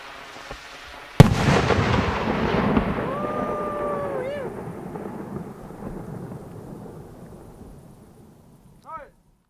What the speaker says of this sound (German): die letzte Rakete im Raketenvergleich